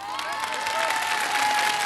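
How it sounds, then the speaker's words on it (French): A crowd applauds the head sheriff at a Far West themed Intervilles contest between Thiers and Le Mont-Dore, steady clapping with a faint whistle over it, loud and continuous throughout. "le shérif en chef, c'est tout naturellement celui que nous allons applaudir, notre ami Jean Sunny lui-même."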